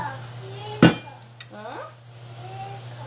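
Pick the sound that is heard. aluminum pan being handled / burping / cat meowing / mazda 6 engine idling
aluminum pan being handled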